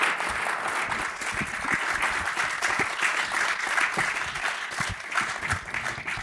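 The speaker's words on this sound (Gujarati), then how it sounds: "તાળીઓથી" A hall audience applauds the presenters after their talk, loud and sustained clapping with many distinct claps rattling through for around six seconds.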